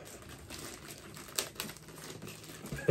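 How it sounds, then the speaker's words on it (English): Plastic packaging around a Scream VI Ghostface plush tears and crinkles in a steady, close rustle, with a few sharper rips standing out near the middle and end. "I'm going to go ahead and open that from the plastic and check it out."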